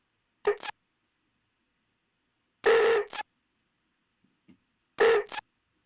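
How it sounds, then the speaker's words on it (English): An effect sound is passed through the iZotope Trash 2 distortion plugin, giving three short, gritty, heavily saturated bursts separated by silence, each about half a second long. "Now this isotope trash too is a distortion plugin."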